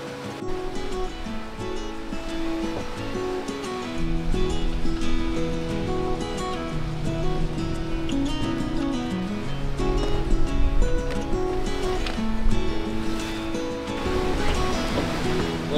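Ocean waves and light chop wash steadily around a cruising boat in the Gulf Stream on a calm day, a continuous close rushing swash with no voices.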